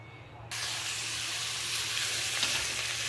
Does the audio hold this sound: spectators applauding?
no